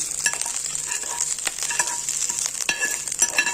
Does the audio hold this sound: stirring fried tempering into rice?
yes